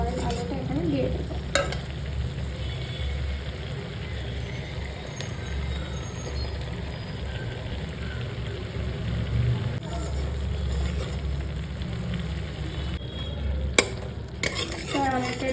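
Boiled potatoes fry in a pan with a steady low sizzle while a spoon scrapes and stirs continuously, with a couple of sharp knocks against the pan.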